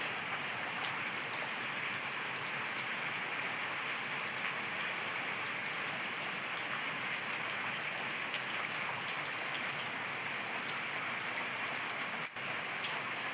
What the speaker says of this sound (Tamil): எங்கள் ஊரில் சரி மழை, வெள்ளமோ வெள்ளம்